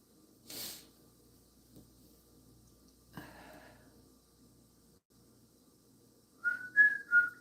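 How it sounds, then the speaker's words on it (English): Someone at a sewing machine gives a short burst of whistling near the end, a few bright wavering notes after faint rustles and a soft thump in an otherwise quiet room. "Oh, I can whistle."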